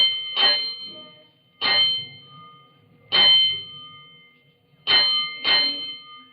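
Firehouse alarm bell in a 1948 radio drama, a series of loud metallic clangs struck in spaced groups, each ringing out and decaying before the next, with no voices.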